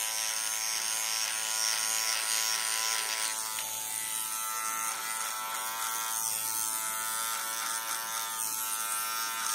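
A cheap electric hair clipper, held vertically, buzzes steadily and close up as it cuts hair down to a zero-length fade, its tone shifting slightly partway through as it bites into the hair.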